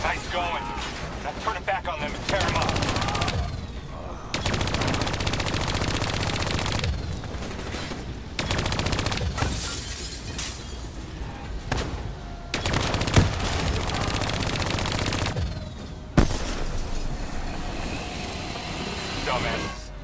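Sustained automatic gunfire in Call of Duty Black Ops 3 as bats are shot down, loud dense bursts with short gaps between them, under battle noise and occasional voices.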